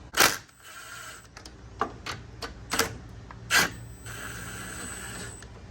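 Two 10 mm bolts are loosened and taken off the AC lines of a 2010-2014 Genesis Coupe 2.0T, giving a series of sharp metallic clicks and ratchet clacks with brief gaps between them.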